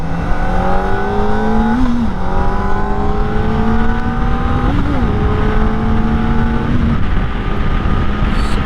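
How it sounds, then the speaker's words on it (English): A 2025 Kawasaki Ninja ZX-4RR with a 400cc inline-four engine drones steadily while riding, its high, smooth tone holding a constant pitch and dipping briefly at gear changes, loud and close with wind underneath. "it sounds like a track bike with that inline 4"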